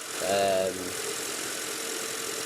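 A 2006 Renault Clio Phase 3 engine idles with a steady, even rumble, opening with a brief tonal whine over the running noise.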